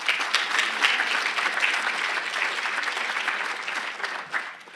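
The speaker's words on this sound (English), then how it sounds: "So if we could give Jerry a round of applause and have him come up." Audience applause for Jerry at the 2015 Endeavor Awards, an Allen College community event: a steady, dense wash of many hands clapping, sustained evenly throughout and tapering slightly near the end.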